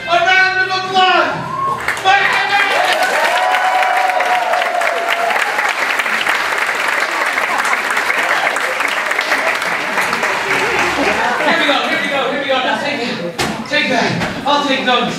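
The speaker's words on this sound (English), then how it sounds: "Ladies and gentlemen, a round of applause." A loud, sustained audience applause for a magic trick performance swells and holds for many seconds, a dense roar of clapping mixed with cheering voices and children speaking, with a sharp slam near the end.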